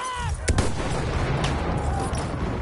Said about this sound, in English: Machine gun, left side.